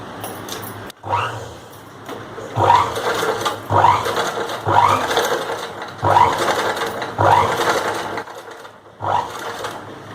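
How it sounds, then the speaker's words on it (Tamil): Sewing machine stitching the neckline of a churidar, running in repeated bursts of rapid mechanical whirring with short pauses between, close and loud, no voices. "இந்த சென்டர் பாயிண்ட் இருக்குல்ல அதில் வச்சுட்டு நான் இப்போ வந்து ஸ்டிச்சிங் கொடுப்பேன்"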